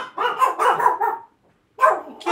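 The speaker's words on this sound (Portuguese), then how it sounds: "O cachorro agora resolveu latir." Dogs at home bark in a burst of several quick, fairly loud barks, fall silent for a moment, then start barking again; no talk is heard.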